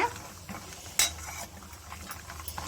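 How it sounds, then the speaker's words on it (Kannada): Peanuts fry until crisp in oil, making a soft, steady sizzle. A sharp metallic clink from a spoon on the pan cuts in once, and lighter stirring scrapes follow. "ಇದನ್ನ ಎಣ್ಣೆಯಲ್ಲಿ ಕ್ರಿಸ್ಪಿಯಾಗಿ ಫ್ರೈ ಮಾಡಿ ತಗೊಳ್ಳೋಣ"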